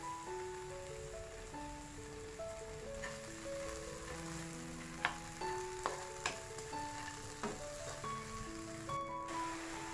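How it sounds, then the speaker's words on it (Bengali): Small shrimp fry in hot oil with a steady, fine sizzle, broken by a few sharp clinks of stirring over soft background music. "এবার এই চিংড়ি মাছগুলো আমি তেলের মধ্যে ফ্রাই করে নেব।"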